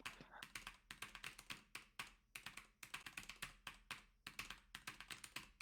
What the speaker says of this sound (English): we're just gonna have to hear the sound of Pataraj's keyboard over and over and over again